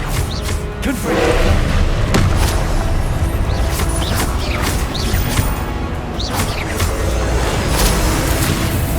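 Confringo fire spells burst in Hogwarts Legacy, a series of sharp explosive thuds and crashes over a dense, loud combat din, repeated every second or two.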